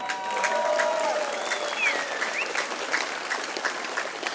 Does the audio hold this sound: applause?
yes